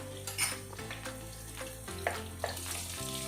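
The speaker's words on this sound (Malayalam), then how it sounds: "വെളുത്തുള്ളിയുടെയും പച്ചമുളകിൻ്റെയും നമ്മൾ 1 മിനിറ്റ് സോട്ട് ചെയ്തു" Garlic and green chillies sizzle steadily in sunflower oil over a medium flame, a continuous bright frying hiss with a few soft clinks of a utensil against the pan.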